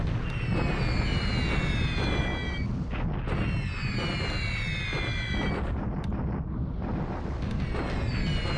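Anti-aircraft flak fire from a World War II Pacific wargame, Alphabet Command, during a Betty bomber raid on Pearl Harbor. Dense, continuous rumbling bursts and booms roll on throughout, with whistling tones layered over them.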